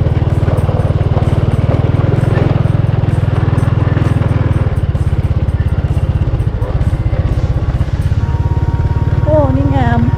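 A motorcycle ridden in first gear through a river in rural Thailand, its engine putting steadily and loudly close by, with someone talking over it and a faint whistle-like tone near the end.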